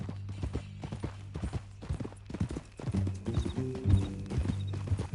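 Horse hooves clip-clop in a steady walking rhythm in Red Dead Redemption 2, fairly close and moderately loud, with a low engine-like drone and faint chiming tones running underneath.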